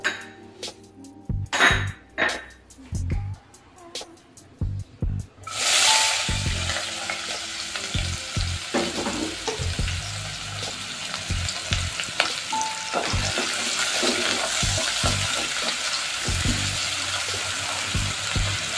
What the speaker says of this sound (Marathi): आता ह्या कढईतच आपल्याला पुढची प्रोसेस करायची आहे. तर सगळ्यात पहिल्यांदा आपण ह्याच्यामध्ये कांदा टाकू